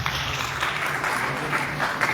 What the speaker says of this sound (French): Applaudissez pour eux, s'il vous plaît.